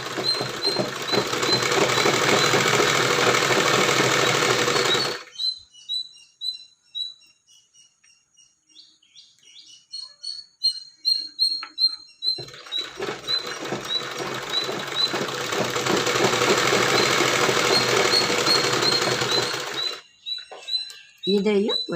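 A domestic sewing machine stitches a blouse in two loud, steady whirring runs of about five and eight seconds, separated by a quieter stretch of small clicks and handling noises.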